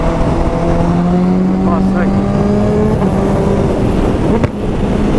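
A steady Honda CB650R motorcycle engine drone with rising pitch sweeps as it revs, running continuously and fairly loud throughout.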